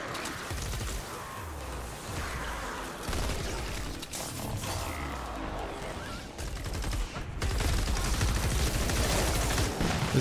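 Dense, loud gunfire in Fortnite: Save The World on PC, with rapid overlapping bursts and crashing impacts running almost nonstop and swelling louder toward the end.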